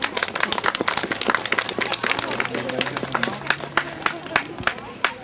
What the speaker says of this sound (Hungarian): Egy nagy tapsal köszönjük meg nekik az egész éves munkájukat.